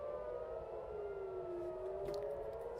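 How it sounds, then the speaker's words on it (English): Civil defense alert sirens wailing in the distance, a steady faint tone that slowly dips and rises in pitch, heard alone over low background noise. "Again, I'm hearing sirens. There's alerts,"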